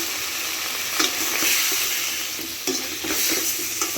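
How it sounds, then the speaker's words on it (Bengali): Spice paste with a splash of water sizzles in a pan for a Bengali winter potato and tomato curry, a constant frying hiss broken by irregular scrapes and knocks of stirring, close and with no talking. "আমি সামান্য পরিমাণ পানি দিয়ে মশলাটাকে ভালো করে কষিয়ে নিচ্ছি"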